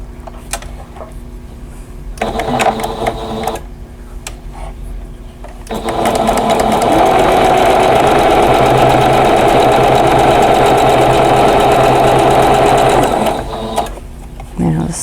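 A sewing machine stitches quilt block pieces with 50 weight thread at a 2.0 stitch length, running in a short burst and then in a steady, loud mechanical whir for about seven seconds before stopping, close up.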